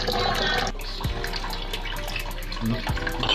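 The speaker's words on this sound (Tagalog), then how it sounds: "Mahina talaga ang tubig" Weak water running from a kitchen tap while dishes are washed, a steady close hiss that holds throughout with a few brief knocks.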